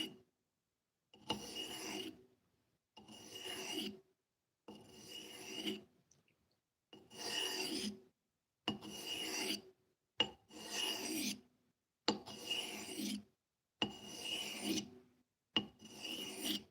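A blade is drawn across a 1000 grit sharpening stone in about ten slow, even rasping strokes, each roughly a second long with short silent gaps between, close and fairly quiet.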